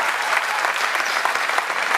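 An audience at a live music show applauds a performer, with loud, dense clapping that holds steady throughout the brief moment.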